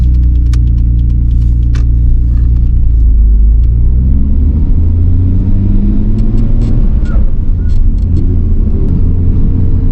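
A Nissan R32 GTR drives along with a loud, steady engine rumble heard from inside the car, the tone rising and falling as it accelerates, with a few light clicks and rattles.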